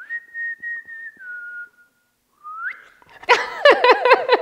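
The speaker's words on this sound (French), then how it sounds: "Alors, je sais pas si il se passe quelque chose quand je siffle." A person whistles: long held notes that slide down in pitch, a brief rising phrase, then a quick run of warbling chirpy notes, close and clear.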